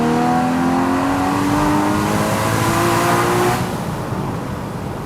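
A Porsche Boxster Spyder's 3.8 litre flat-six revs hard in second gear on a narrow road, a loud rising engine howl climbing for several seconds before the throttle lifts and it fades.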